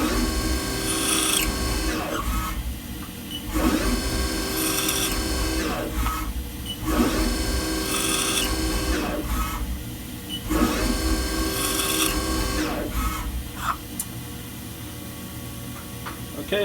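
A milling machine drills a long run of holes in a dodecahedron workpiece, each pass a steady loud whine and grind, with short bursts repeating about every two to three seconds over a constant motor hum, no talk.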